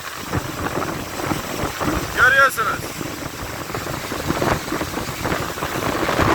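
Strong wind roars and buffets steadily throughout at a waterfall, a broadband rush with gusts, while a person speaks briefly over it.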